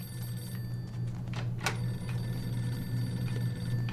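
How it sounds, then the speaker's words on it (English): An old-fashioned telephone rings in the video game Mafia 2, a faint bell burst heard once over a steady low hum of game ambience, with no talking. "Probably to answer the phone, huh?"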